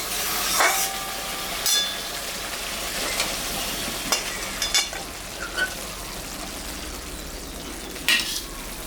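Ridge gourd cooked with mustard sizzles steadily in a pan while a utensil scrapes and clinks against the metal in occasional sharp strokes, close and continuous.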